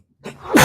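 A single sudden sneeze bursts out close and loud at the end, preceded by a short sharp intake of breath, with no talking.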